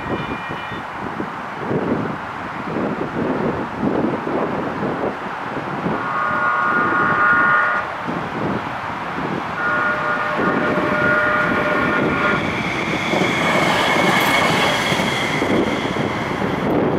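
An eastbound train passing on the tracks at Huntsman Road, a loud rumble of rolling wheels and rhythmic rail clatter with intermittent squealing tones from the wheels, building in intensity toward the end.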